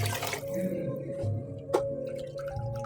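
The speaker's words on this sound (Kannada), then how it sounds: "ನಾನು ಬಿಸಿ ನೀರು ಹಾಕ್ತಾ ಇದ್ದೀನಿ" Hot water poured from a vessel onto two bowls of rice for egg biryani, a steady watery trickle and splash running throughout at moderate level, with no talk.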